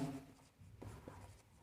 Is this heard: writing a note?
yes